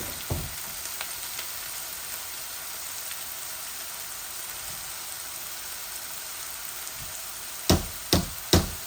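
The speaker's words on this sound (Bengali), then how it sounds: "এই ভাজিগুলা এখন ঢেলে দিব" Mixed vegetables fry in a pan with a soft, even sizzle, followed near the end by three sharp, loud clanks close by.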